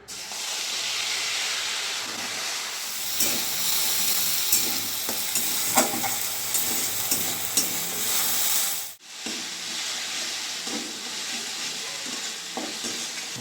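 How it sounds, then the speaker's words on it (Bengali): Ground onion and green chili paste fries in oil with whole cumin and bay leaf for fish kalia, a steady close hiss and sizzle with stirring scrapes and a brief dip partway through. "এখানে পেঁয়াজ আর কাঁচা লঙ্কা বেটে রেখে দেখলাম, তেলের মধ্যে দিয়ে দেবো"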